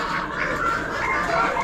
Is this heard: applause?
no